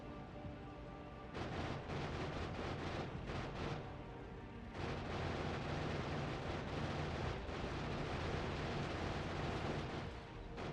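Nuke detonation in Factorio, a massive sustained roar with broad rumbling noise that swells, briefly dips, then surges again and holds for several seconds before trailing off.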